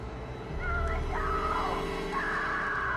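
A woman's distressed screams in the Alan Wake video game, wavering and somewhat distant over a low, constant ambient drone.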